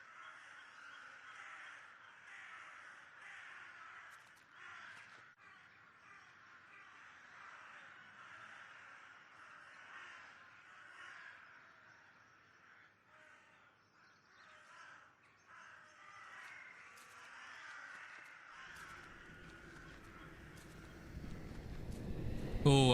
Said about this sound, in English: I'm hearing birds.